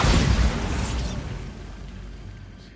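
A Bombarda spell goes off in a Harry Potter video game, a loud booming blast that hits hard at once and then rolls away over a couple of seconds into a fading rumble.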